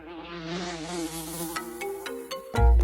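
A housefly buzzes close by in a steady, wavering drone that rises and falls in pitch for nearly three seconds, broken by a few light taps and ending in a louder low thump.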